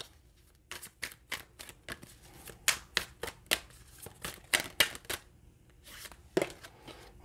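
Tarot cards shuffled by hand in quick bursts of crisp riffling flicks, close and fairly quiet, with brief pauses between bursts and no talking.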